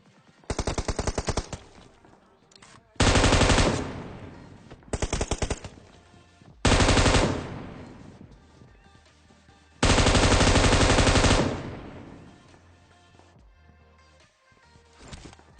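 Loud bursts of automatic gunfire from a PUBG match come in several long sprays with brief gaps between them, each one dense and rapid.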